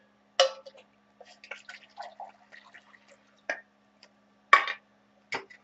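Water poured into a metal canteen cup outdoors, a few sharp splashes and clinks separated by soft trickling drips, close and intermittent over near silence.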